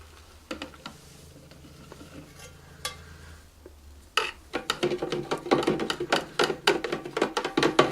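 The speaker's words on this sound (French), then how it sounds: "Et on n'oublie pas de mélanger." Soap bubble solution with glycerine stirred in a container, at first sparse light taps and scrapes, then a busy run of rapid clinking and sloshing strokes that grows louder and steadier toward the end.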